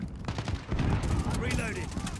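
Rapid overlapping gunfire bursts in Call of Duty Modern Warfare co-op combat, loud and dense, with shouted voices mixed in among the shots.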